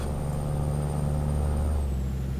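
A Kenworth K100 truck in Euro Truck Simulator 2 releases its air brakes, a hissing whoosh over a steady low engine drone, close and continuous, with a falling tone near the end.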